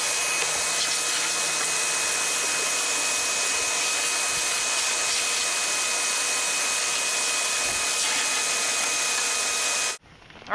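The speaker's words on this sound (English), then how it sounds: "we'll go ahead and get the cook chamber all vacuumed out" A shop vac runs steadily while vacuuming out the cook chamber of a Stumps Baby XL smoker, a constant loud whine that holds for about ten seconds and then cuts off abruptly.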